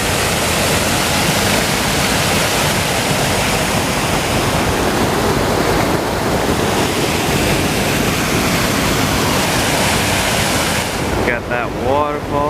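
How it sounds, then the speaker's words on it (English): A waterfall on a freezing cold nature walk roars as loud, continuous broadband rushing water close by, unbroken for the whole stretch, with a brief voice only at the very end. "Got that waterfall back here."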